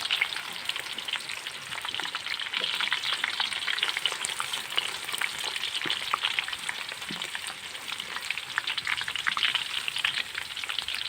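Onions fry in a pan for beef bhuna, giving a steady, soft sizzle and crackle with faint stirring, moderately close and continuous, with no voices.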